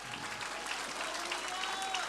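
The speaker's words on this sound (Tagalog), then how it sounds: "Yung palakpak para sa Panginoon." A church congregation applauds in a steady, continuous patter of clapping that runs throughout at moderate volume, with faint voices mixed beneath.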